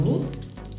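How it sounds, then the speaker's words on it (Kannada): Marinated prawns drop into about six or seven spoons of hot oil in a pan, giving a loud, steady sizzle that fades slightly over a brief moment, with a faint voice murmuring in the background. "ಒಂದು 5 ನಿಮಿಷ ಚೆನ್ನಾಗಿ ಫ್ರೈ ಮಾಡ್ಕೊಳ್ಳಿ."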